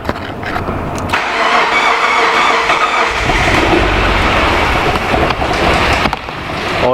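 A Subaru Liberty wagon's 3.0 boxer engine cranks and fires on its first start, then settles into a steady, loud idle with broad mechanical roar close by.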